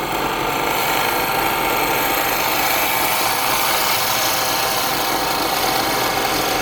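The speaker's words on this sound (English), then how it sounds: "So we're going to drill down to one level and then to another level." A power drill whines steadily and loudly, grinding continuously into wood while drilling a wooden eagle whistle, without pause and with no voices.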